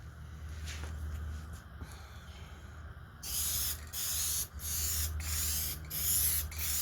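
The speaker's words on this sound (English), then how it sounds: "I'll be spraying heavier to get that gloss." A spray can lays Piano Black HyperDip onto plastic body cladding on an 04 Saturn VUE: faint background hum, then a close, steady hissing spray starts midway and runs in several long bursts with short pauses between them.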